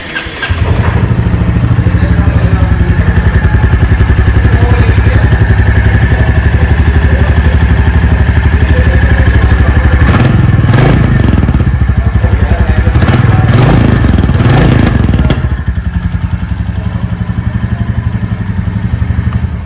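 A Royal Enfield Standard Bullet 350 motorcycle starts and settles into a loud, close, steady thumping idle, with a few brief blips of the throttle partway through before returning to idle.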